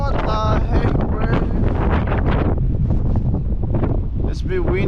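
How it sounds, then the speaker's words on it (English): Strong wind buffets the microphone at an offshore rope access work site above the sea near Wellington, a loud continuous roar and rumble with gusts, while a person talks intermittently. "It's a bit windy,"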